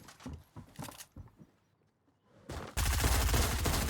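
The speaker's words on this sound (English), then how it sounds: "He decided this is a great time to open fire on some strangers." Video game gunfire in Fortnite: a few short bursts at first, a pause, then a loud continuous stream of dense automatic fire that fills the end.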